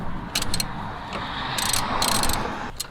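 A ratchet tightening a bolt in a car engine bay, into an aluminium block near the idler and tensioner pulleys, makes several quick bursts of sharp metallic clicking with short pauses between strokes.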